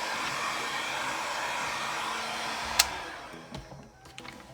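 A hair dryer blows steadily and loudly on a freshly painted tempera journal page, then switches off near the end, leaving a few faint clicks and handling sounds.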